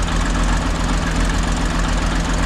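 1959 International dozer engine running loudly and steadily with a deep, rough, knocking idle as the clutch is pushed in to shift into gear, with no voices.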